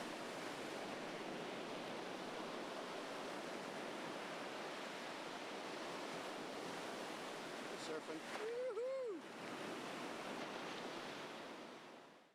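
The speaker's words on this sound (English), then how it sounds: "I've got the constant sound of the ocean waves" Ocean waves breaking on the beach at Crystal Cove, a constant, even roar of surf filling the scene throughout, with a brief bird-like chirp near the end before the sound fades out.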